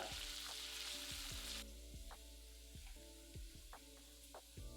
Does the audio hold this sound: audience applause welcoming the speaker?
no